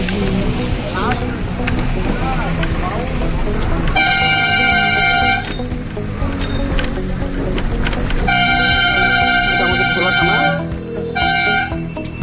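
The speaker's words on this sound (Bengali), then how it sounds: "ওই রেল চলে যাচ্ছে।" A train passes near Namkhana on the Kolkata line, sounding its horn in loud sustained blasts, one long and then two shorter, over a steady rumble of running wheels.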